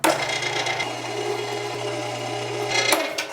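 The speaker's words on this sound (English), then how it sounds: "through the meat grinder we go" An electric meat grinder with a fine die pushing cold meat through, giving a steady close motor drone with a low hum and grinding, rasping texture that runs throughout.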